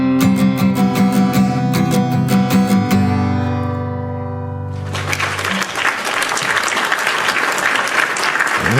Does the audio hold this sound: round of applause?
yes